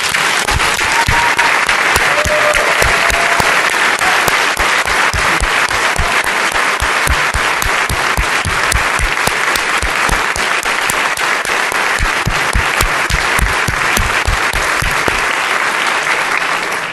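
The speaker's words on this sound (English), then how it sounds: "please join me in giving her a round of applause" Loud, sustained applause fills the chamber during Nevada's State of the State address, a thick continuous wash of many hands clapping at an even level for the whole stretch without letup.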